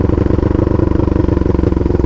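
Two-cylinder engine of a Riva 500R Twister motorcycle, loud and close with a fast regular pulsing throb, no voices over it.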